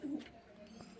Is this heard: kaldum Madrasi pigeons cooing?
yes